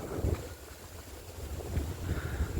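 Strong wind buffets the microphone on the exposed Muttara hilltop in Kollam, a steady low rumbling roar with gusty surges throughout, no voices.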